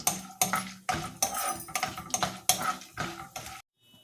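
Mustard seeds fry in a pan while a metal spoon stirs, scraping and clinking in a steady rhythm of sharp strokes up close before stopping abruptly.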